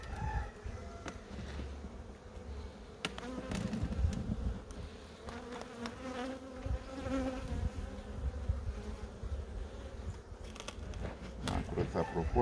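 Honeybees buzz around an open polystyrene hive, a steady dense hum with some louder close passes and handling knocks throughout, near and continuous.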